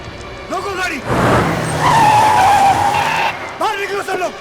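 A car's tires skid and squeal for a couple of seconds as it slides to a stop, loud and close, with people talking just before and just after.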